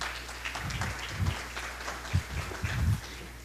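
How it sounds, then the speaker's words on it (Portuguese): Audience at a corporate panel event on big data applauding, heard as a soft, diffuse patter of clapping with a few louder hand claps close by, steady and moderate throughout. "Uma salva de palmas."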